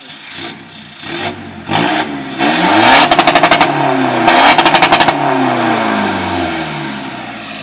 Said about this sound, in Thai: เรามาฟังเสียงเบิ้ลตัดกันดูนะครับ